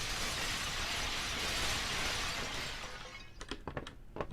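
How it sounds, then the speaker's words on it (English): Clay pots being smashed in the video game Sekiro, a broadband crashing roar that gives way to several sharp, separate breaking cracks near the end. "obligatory pot smashing"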